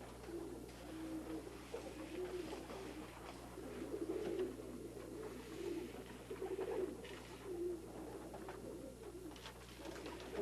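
Pigeons coo softly inside a basket pannier with wooden floor grills, repeated low throaty cooing calls overlapping at a gentle rhythm, fairly close and quiet, with no speech.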